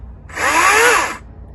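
A Stiga CS 100e electric chainsaw starts up and runs for about a second at a loud, steady buzzing whine, then stops, with no voices over it.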